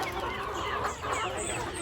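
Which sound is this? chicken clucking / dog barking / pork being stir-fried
chicken clucking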